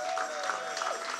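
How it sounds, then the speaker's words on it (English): A church congregation claps for new members in a short burst of scattered applause, moderately distant and fairly faint, with no voices over it. "Can we clap for them as they go?"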